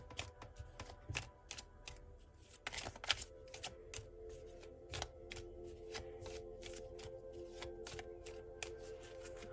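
Tarot cards are shuffled by hand in quiet, crisp riffles and taps, a soft rhythmic flutter of card edges with no talking.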